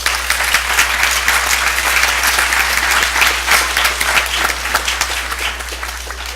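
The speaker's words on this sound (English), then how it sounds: "Let's give them one more round of applause." Applause breaks out at a school board regular meeting, a lively room of clapping with distinct individual claps standing out over a steady low hum, holding steady before easing slightly at the close.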